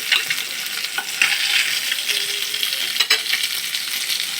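Rohu fish pieces frying in hot oil in a pan give a steady, dense sizzle close by, with a few brief scraping stirs and clinks; no one speaks.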